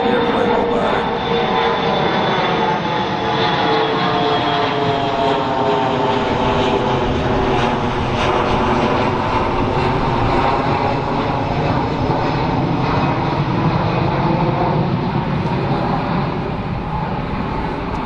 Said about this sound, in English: I'm gonna let this airplane go by.